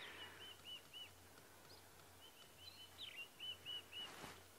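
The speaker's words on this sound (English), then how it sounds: "The high-pitched whistling that we've been hearing, there's some scrub robins calling." Scrub robins call at dawn in the Sabi Sand bush, faint high-pitched whistled phrases repeating at a distance amid a quiet outdoor hush and other soft bird chirps.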